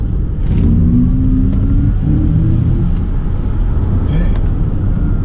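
An Audi RS e-tron GT electric sports car surges and builds in pitch as it accelerates toward 180 km/h on the autobahn, a steady rising whine over heavy road rumble, loud and close.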